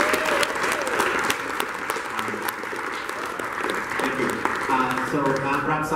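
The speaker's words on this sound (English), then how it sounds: "let's give a round of applause again for our three fantastic speakers." A conference audience claps for three presenters at a design systems talk, a steady, dense round of applause filling the room from start to finish.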